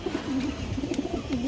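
Pigeons of a high-flying roller breed cooing in a loft, a steady stream of low, throaty rolling coos close by against a constant background hum.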